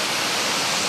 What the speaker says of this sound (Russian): и вот тут Софийский водопад.